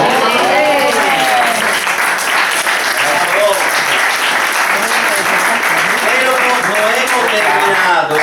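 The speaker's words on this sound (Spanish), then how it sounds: "Les hacemos un aplauso" Applause in Venice, Italy, for a master glassmaker, loud and steady throughout, mixed with voices of a crowd talking over it.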